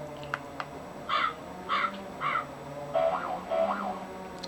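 A handheld sound effect toy plays a synthetic crow caw, three short electronic caws in a row followed by two longer warbling calls, fairly close and clear with no talking.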